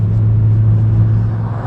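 Audi S1 evo with a four-cylinder engine, a steady loud low drone at constant revs throughout, close and continuous with no talk.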